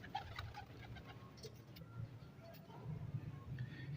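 Soft, low cooing of pigeons repeats in gentle bursts nearby, with faint chirps and rustling in the background.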